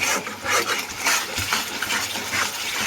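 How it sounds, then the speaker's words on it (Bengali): Spice paste being stirred and sautéed in a pan while frying in oil, a steady run of scraping and sizzling spoon strokes up close, with no voices. "এবার এটার সঙ্গে ভালো মতো আবারও কষাবো"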